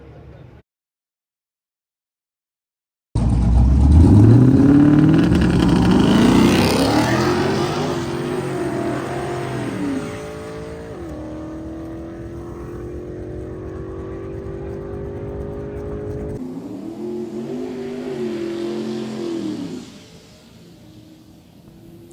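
A 2016 Ford Mustang GT makes a single drag racing pass at Sick Week. After a few seconds of silence, it launches with a loud, roaring engine note that climbs through several gear shifts, then drops to a steadier drone and fades as it runs away.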